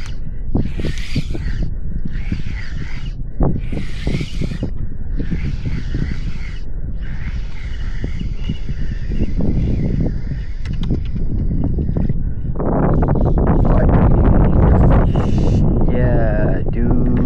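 Strong wind gusts across a fishing raft at sea as a storm approaches, a steady broadband roar under frequent talk from people on board, with a few crow-like caws early on and a louder swell of wind near the end.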